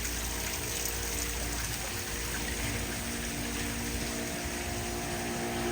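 Water from a waterfall spills into a small hotel pool, a steady faint broadband rush and splash that runs continuously without breaks, with no one speaking.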